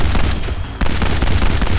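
Dense gunfire from the Kane & Lynch: Dead Men video game: rapid, loud bursts of automatic weapons fire run throughout, with a brief dip before the shooting resumes at full intensity.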